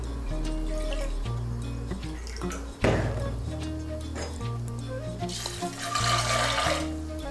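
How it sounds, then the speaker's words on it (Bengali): A bowl of water poured over chickpeas in a pressure cooker, a continuous near splashing pour lasting several seconds with a louder gush partway through, over a steady low hum. "এর মধ্যে আমি এক বাটি জল দিচ্ছি।"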